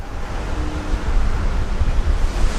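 Strong wind blasts across the microphone at a cable car summit in Vietnam, a continuous loud rushing roar with gusty surges and no voices.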